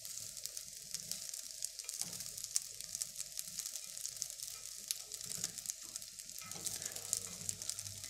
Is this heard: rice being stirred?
yes